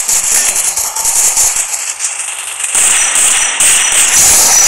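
Gunfire in the Free Fire mobile game with an M1887 shotgun skin, landing a headshot: a dense, loud burst of crackling shots and rattling impacts running throughout, with no speech.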